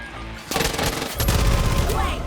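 Rapid bursts of automatic gunfire and shots in the video game Far Cry 5, loud and dense, starting after a brief quiet lead-in and continuing steadily to the end.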